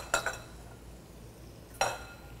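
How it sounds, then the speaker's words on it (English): A spoon clinks twice against a hot pan while orange marmalade and rice wine vinegar are stirred together, two short, fairly faint metallic taps about a second and a half apart over a quiet background. "all you really have to do to this is just kind of stir it together"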